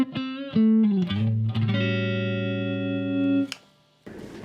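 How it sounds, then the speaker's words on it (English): Electric guitar through a simple one-channel amp with Marshall-like distortion, a few short notes and then a long sustained chord ringing loud and close, ending in a quick cutoff. "That sounds like a big old Marshall"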